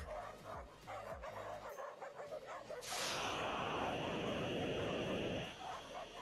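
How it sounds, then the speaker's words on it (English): Many dogs barking and yipping in a chaotic animal shelter, heard from a video being watched; rapid overlapping barks, then a loud burst of harsh noise. "All these dogs are getting ready to fight, and then look at this dog come in."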